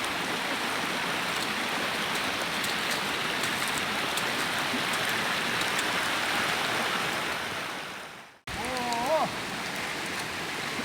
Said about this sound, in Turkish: Sakin sakin sakin yağıyor Allah'ın izniyle.